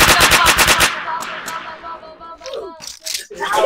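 Rapid automatic gunfire in the Roblox-style video game Super Hero Tycoon, a loud, close burst of evenly spaced shots that cuts off abruptly. Game effects and voices follow underneath.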